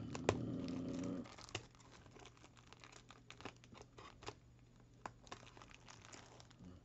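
Plastic wrapping being torn and peeled off a Pokemon Sun and Moon booster box, a loud crinkle up front followed by quiet scattered crackles and small ticks, close and faint, with no talking.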